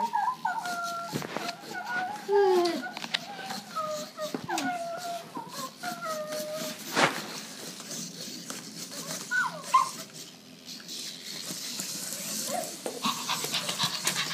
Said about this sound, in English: The real robotic puppy from Spin Master.